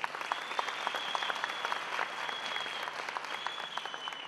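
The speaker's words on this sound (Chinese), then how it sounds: "在此我要借助大家的掌声" Dense, steady applause from a seated audience at a Singapore kidney-patient community event, a continuous crackle of many hands with a faint high steady tone running beneath it.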